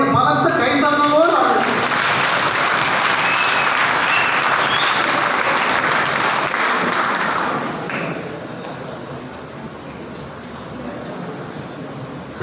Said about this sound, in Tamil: உங்களுடைய பலத்த கைத்தட்டலோடு